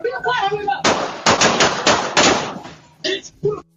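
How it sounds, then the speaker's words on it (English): A close gunfire sequence cracks out in a rapid string of sharp, loud shots lasting a couple of seconds, followed by two or three separate bursts, with a voice just before. "That's how fast bullets travel."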